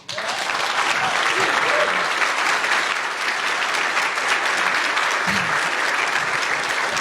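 A room full of people bursts into loud, sustained applause that stays dense and even for several seconds, with a few faint voices mixed into the clapping.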